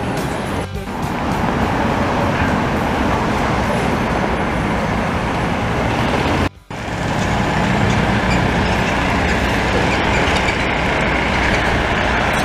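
Trucks rumble along a busy Montreal road near Jean-Talon, a constant, close, heavy traffic roar with a brief cut partway through, no talking.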